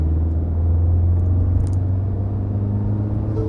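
A Tata Safari Dark diesel automatic SUV engine rumbles steadily with a deep, sustained low drone, the revs holding fairly even throughout, close by and moderately loud.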